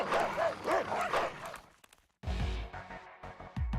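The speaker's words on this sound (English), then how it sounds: "The moment you hear the distant barking, your memories come flooding back." Dog barks several times in a quick burst at moderate distance, followed by a pause and then low thumping and rumbling noises, in a Fate: Grand Order fan animation.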